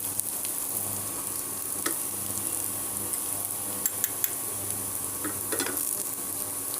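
Ground poppy seed paste, about 50 grams, stirred into fried onions in a pan for posto, giving a soft continuous sizzle with scattered spatula scrapes and clicks close by.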